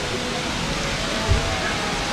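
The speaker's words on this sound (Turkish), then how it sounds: "Şelaleye yaklaştık. Şu ileride büyük şelale var." Broad, steady roar of a large waterfall in Japan in autumn, heard from a distance as the falls come into view, a dense continuous rush with no voices over it.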